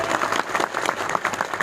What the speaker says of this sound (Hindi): तो इसके लिए आप सबके लिए एक बार ताली बजाओ